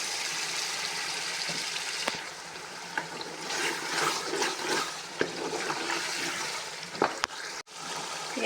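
About three glasses of water are poured into a pot of potato and egg curry cooking on the stove, giving a steady rushing, sizzling wash with a few clinks of utensils against the pot.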